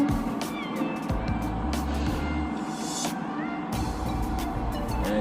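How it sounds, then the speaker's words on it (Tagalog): A very large truck rumbles past at close range, a heavy low engine drone rising and falling with some higher mechanical whine and road noise, with faint voices in the background. "napakalaki ng truck"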